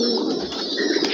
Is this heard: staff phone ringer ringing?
no